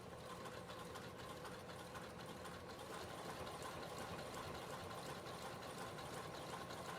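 A sewing machine stitches the front pocket of a fabric reading pillow, giving a steady, continuous mechanical whir at even loudness throughout.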